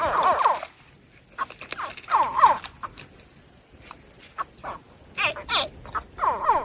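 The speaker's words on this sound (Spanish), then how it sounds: "Lo que están escuchando es el sonido de las crías de cocodrilo siameses al nacer." Newly hatched Siamese crocodiles give repeated high, chirping calls, short upward-sweeping yelps that come in irregular overlapping clusters, some close and loud, others fainter, over a quiet background.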